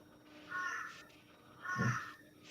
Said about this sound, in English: It's just a magpie.